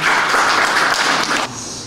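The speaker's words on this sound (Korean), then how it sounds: "박수로 맞이해주세요." An audience at a Korean art exhibition opening applauds to welcome a speaker, a dense burst of clapping from a nearby crowd that cuts off abruptly near the end.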